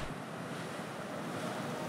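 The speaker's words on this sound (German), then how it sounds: "Der Wasserfall der Götter." A partly frozen waterfall in snowy northern Iceland in winter sends out a constant, even roar of rushing water, heard alone with no voices.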